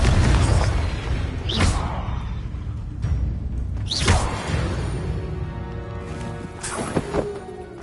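Confringo spell explosions in Hogwarts Legacy blowing apart rocks, several booming blasts with whooshing bursts spaced a few seconds apart, loud and close.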